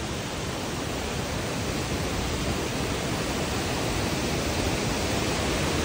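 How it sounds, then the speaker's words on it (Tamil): A waterfall roars in a steady, dense, broadband rush of falling water that stays loud and unchanging throughout. "இங்கே ஃபால்ஸ்"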